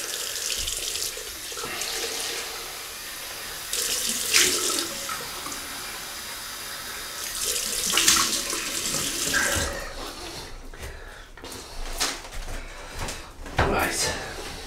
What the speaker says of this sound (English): Welsh water to rinse, nice and cold.